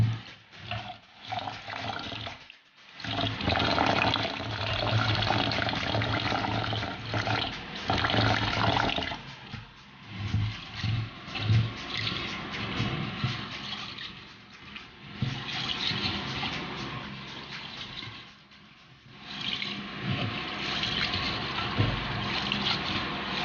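Rice is washed in a sink under steady running and sloshing water, with a continuous churning splash and a few brief pauses.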